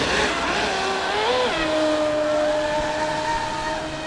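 Large-scale Proboat Supersonic Wake 48 RC boats, heavily modified, racing with a loud steady engine whine that rises and shifts pitch as they pass, continuous and without talk.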